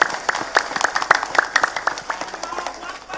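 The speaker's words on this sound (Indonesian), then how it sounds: "Tepuk tangan sepindah malih." Audience at a village Mawlid gathering in Kampung Bubutulan claps in a dense burst of applause, steady and close, with a faint voice underneath.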